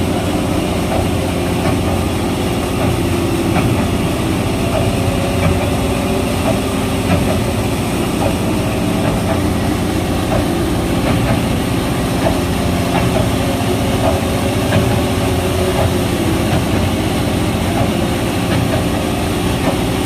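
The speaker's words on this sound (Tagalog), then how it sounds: "So yan po yung dambuhalang makina. Kung tawagin ko ay trash skimmer dito po sa Manila Baywalk, Dolomite Beach" A large trash skimmer machine runs at Manila Baywalk's Dolomite Beach, its heavy engine droning steadily and loudly throughout with a low rumbling idle, no voices present.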